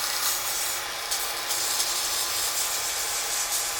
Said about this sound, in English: Sand the blank into the bushing so the shape is right.